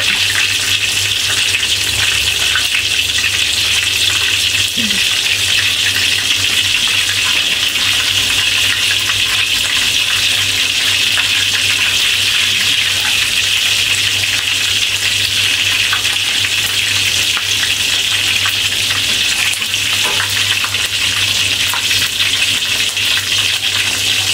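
Loud, steady sizzling of lemongrass sautéing in hot oil, a continuous crackling hiss with no talking.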